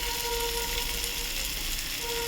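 Hilsa fish head cooks with taro stems in a pan, giving a steady close sizzle and frying hiss throughout, with no talking.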